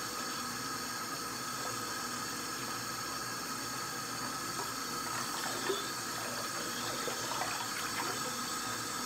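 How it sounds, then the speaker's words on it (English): Tap water runs steadily into a sink during handwashing with soap, a continuous close splashing stream without speech. "Wet your hand soap with the water."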